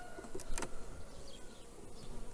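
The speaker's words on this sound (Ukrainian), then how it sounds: "Бджолосім'ї наші," Honey bees buzz around wintered hives at an apiary, a steady close hum of many insects with a few brief sharper clicks and knocks near the start.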